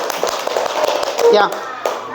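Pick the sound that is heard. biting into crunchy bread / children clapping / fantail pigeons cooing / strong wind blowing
children clapping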